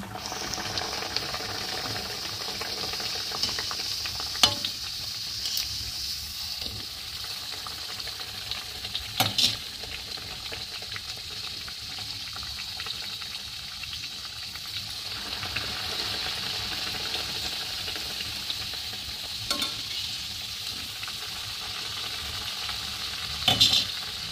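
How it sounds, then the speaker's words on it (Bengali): Gujiyas deep-frying in hot oil in a kadai over a medium flame, a steady bubbling sizzle with occasional stirring clinks and scrapes, close and continuous with no talking. "এইভাবে ওলট পালট করে আমি কিছুক্ষণ ধরে গুজিয়াগুলোকে ব্রাউন করে ভেজে নেব"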